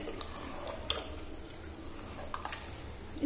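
Water trickles and splashes faintly as about half a glass is poured into a pressure cooker of besan, potato and onion curry, soft liquid sounds with small drips.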